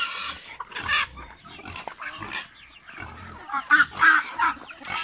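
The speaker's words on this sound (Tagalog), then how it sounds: "kasi nagwawala na yung baboy" A farm pig squeals restlessly in a pen, with loud, agitated cries in repeated bursts that rise and fall across the clip, and no talk.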